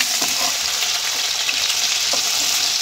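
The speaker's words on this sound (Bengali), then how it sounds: "দিয়ে প্রথমে আমি কপি আর আলু যেটা সিদ্ধ করে রেখেছিলাম সেটা ভালোভাবে ভেজে নেব।" Boiled cauliflower and potatoes fry in melted ghee, giving a loud, steady sizzle with faint stirring scrapes running throughout, close up and with no talking.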